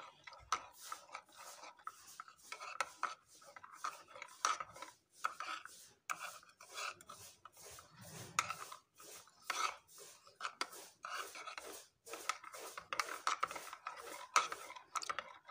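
Coffee cake batter being mixed in a bowl with sugar and coffee, heard as a steady run of soft scraping strokes against the bowl, close and fairly quiet, repeating in quick irregular rhythm.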